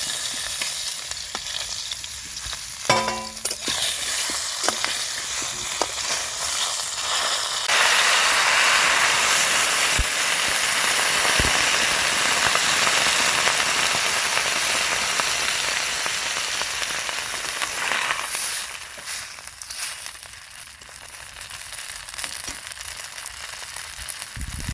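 Mixed vegetables that were fried first now cook together in a pan with added water, in a Bengali whole-vegetable boiled dish. A loud, continuous sizzling hiss with bubbling runs throughout, with some stirring scrapes early on.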